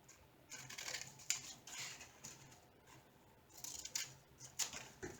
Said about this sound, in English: I'll just cut out the picture from the inventory sheet